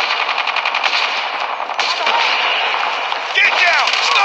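Rapid automatic gunfire from a capture-the-objectives shooter video game rattles loudly and continuously, with in-game voice callouts heard over the bursts.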